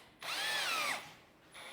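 A power drill spins up and bores into hardwood while building wooden puzzles, one loud whining burst lasting under a second, its pitch sagging as the bit bites, then a quieter hum as the motor winds down.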